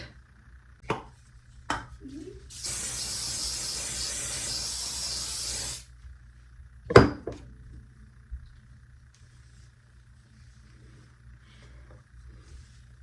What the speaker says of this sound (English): kind of blinding, kind of fatal if you don't close your eyes while spraying this